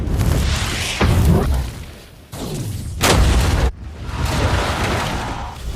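Massive explosion from the Game of Thrones Sept scene special effect: repeated heavy booming blasts with deep rumbling low end, loud and close, each burst swelling then cutting off, with no talk.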